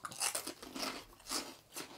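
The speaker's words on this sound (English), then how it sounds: "Same texture too. Yep. Straight up just potato and salt." Japanese potato hot fries made of just potato and salt crunch loudly between the teeth, with about four distinct crisp bites and chews close to the mic, without speech.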